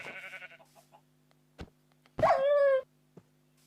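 In a blocky sandbox video game, a sheep bleats in one loud, wavering cry after a couple of sharp dog barks, with a short burst of game sound at the start and otherwise quiet.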